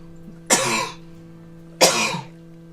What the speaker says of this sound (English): 1 second as I cough.